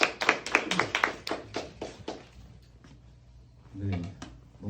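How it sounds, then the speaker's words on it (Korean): Congregation at a church prayer meeting clapping to welcome a pastor, a burst of sharp, separate claps in the first two seconds that thins out, then a voice speaking near the end. "할렐루야로 박수치면서 모시도록 하겠습니다"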